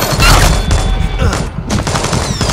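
Dense video game gunfire rattles loud and continuous, overlapping shots and booms filling the whole stretch with hardly a gap, with a voice faintly mixed in.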